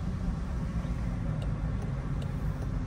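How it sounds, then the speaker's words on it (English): A Land Rover Defender 130 with a 3-litre inline six turbo diesel engine gives off a steady, close, low droning rumble with an even, unchanging level and a few faint ticks. "the benefit of a 3-liter inline six turbo diesel is that it sounds just as good as how much power it puts out"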